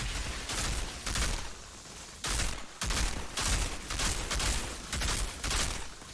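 A Technomancer's deployed turret in Outriders pours out bursts of rapid gunfire, loud clusters of shots broken by short gaps across the stretch.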